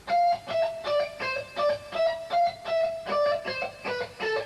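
Rock guitar scale in an intense rock lesson, played slowly as a steady run of about a dozen separate picked notes with bright overtones, close and loud with no talking.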